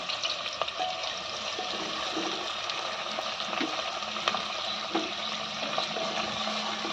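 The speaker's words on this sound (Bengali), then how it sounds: "পেঁয়াজটা একটু লাল লাল করে ভেজে নেবো" Onions sizzle steadily in oil in a pan as the base for a dum biryani cooked in a pressure cooker. The frying makes a soft, continuous crackle with no voices.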